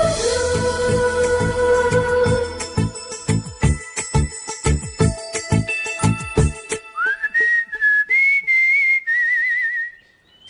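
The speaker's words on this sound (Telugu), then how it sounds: "ఏ విజిల్ అంత బాగుందా?" Whistling rises over rhythmic background music in a Telugu film wedding scene, with a sustained wavering whistled melody emerging clearly toward the end.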